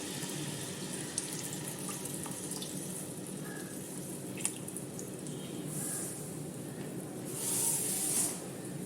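Water pours and trickles steadily into a container holding tamarind, with a brief, brighter splashing burst near the end. No one speaks.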